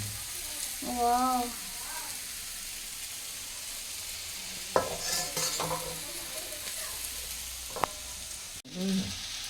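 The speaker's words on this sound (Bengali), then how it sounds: "এখন কি ভাজা হচ্ছে ওলকপি" Kohlrabi frying in a pan on a home kitchen stove, with a steady sizzle and occasional stirring scrapes running through the clip while voices speak briefly near the start and end.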